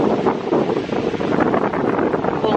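Steady wind rushes across a breezy beach in El Nido, Palawan, a continuous broadband roar buffeting close to the microphone with no voices and no breaks.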